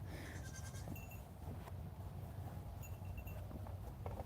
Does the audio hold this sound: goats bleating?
yes